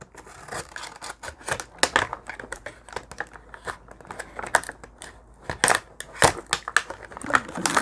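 Scissors snip through plastic packaging to free an action figure's stand, irregular close crisp cuts and crinkling bursts in quick, uneven succession.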